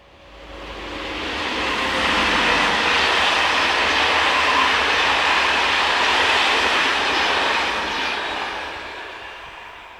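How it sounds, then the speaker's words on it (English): An SNCF BB 7200 electric locomotive, number 7230, hauls a local train past, its rolling rumble building from quiet to a loud sustained roar, then fading away as it departs. "Local trains between Paris and Orléans were also operated by BB 7200s. This is 7230."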